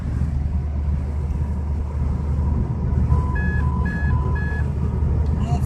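Car warning beeps sound inside a moving car, a run of short repeated electronic tones in the second half over a steady engine and road rumble.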